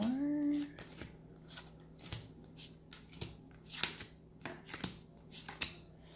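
Oracle cards being drawn and handled at close range, soft crisp flicks and slides in an irregular rhythm, quiet against a faint steady hum, with a short voiced sound at the start.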